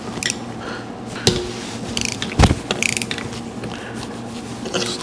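Ratchet snugging nuts on aluminum cylinder heads, a run of quick close clicking bursts with a few sharper metallic knocks over a low steady hum.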